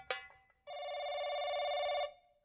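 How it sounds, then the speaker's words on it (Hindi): A telephone rings with one steady electronic trill lasting over a second, clear and fairly close, after a short click, with no voices over it. "सर फोन आ रहा है।"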